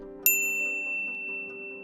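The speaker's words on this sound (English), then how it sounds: "ring the bell to be notified about our latest videos" A single bright bell ding, used as a notification sound effect, strikes once and rings out with a sustained shimmering tone over a soft musical backdrop.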